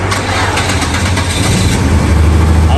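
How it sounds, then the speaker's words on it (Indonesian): A Volvo 960 car engine catches and settles into a steady, loud idle right up close, with a constant low rumble that holds unbroken from start to finish. "Oke, saya start mobilnya."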